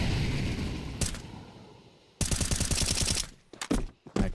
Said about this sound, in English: Mag dumped through the smoke